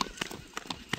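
A two-year-old Kyrgyz horse, about 1.60 m tall, sets down its hooves in a few quick, close clip-clops spaced through one brief second, with a faint voice in the background.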